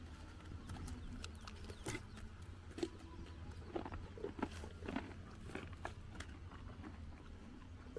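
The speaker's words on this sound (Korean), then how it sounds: "포니는 당근을 주는데 씹어먹는 소리가 아주 듣기 좋았어요" A pony chewing carrots at a mountain farm in Gangwon-do, with soft, irregular crunching bites close to the ear over a low, steady outdoor background.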